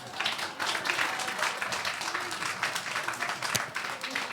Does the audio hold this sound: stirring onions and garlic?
no